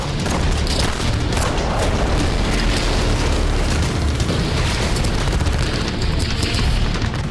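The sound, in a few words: explosion at a British weapons factory, news footage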